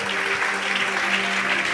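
A church congregation claps together in steady, sustained applause, a dense wash of many hands filling a short burst with no pause.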